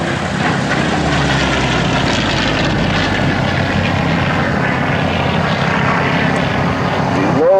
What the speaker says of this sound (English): as we watch Dan Dameo diving in from the right. Building up a high rate of speed